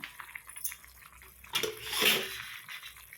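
Water pours briefly into a pan of cauliflower curry, a splashing rush that swells midway and trails off, with light kitchen clatter around it.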